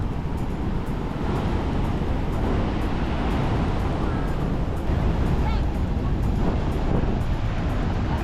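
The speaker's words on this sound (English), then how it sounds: "the first thing that we did was headed straight to Niagara Falls" The thundering waters of Niagara Falls roar in a dense, continuous wash of noise, with wind gusting against the microphone and faint voices mixed in.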